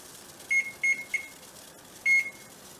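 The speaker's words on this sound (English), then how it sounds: "We're going to set a timer for 5 minutes." A kitchen timer gives short electronic beeps as it is set for five minutes: three quick beeps in a row, a pause, then one more, each clear and close in a quiet kitchen.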